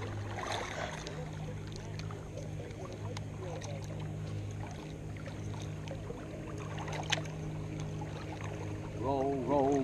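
Paddles dip and splash in a slow rhythm as a canoe glides along the water, with a low steady hum and a voice briefly singing at the end.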